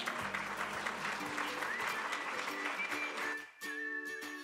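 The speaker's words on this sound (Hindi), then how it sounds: "जोरदार तालियों से स्वागत कीजिए।" Audience applause welcoming a distributor onto the stage at an Atomy India success academy event: sustained, dense clapping from a large hall crowd with music beneath, tapering off near the end.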